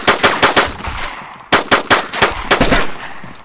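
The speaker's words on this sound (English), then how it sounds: "Jesus, Mark, you nearly shot me like 3 times, eh?" Gunfire in DayZ Standalone: quick bursts of loud, close shots in two groups separated by a brief pause, each crack sharp and echoing, with no talk.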